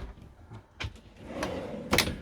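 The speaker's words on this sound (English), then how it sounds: "Right, drawers open." Kitchen drawers in a Mobilvetta Design Yacht Tekno Line 86 motorhome slide open close by, with a few quiet sliding runs and soft knocks and thuds.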